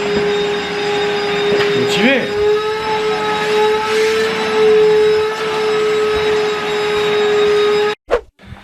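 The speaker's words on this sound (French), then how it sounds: "on faisait du ménage comme vous l'avez entendu" Household vacuum cleaner running steadily during home cleaning, a loud continuous motor hum with a whining tone that holds for about eight seconds before cutting off abruptly, followed by a brief clatter.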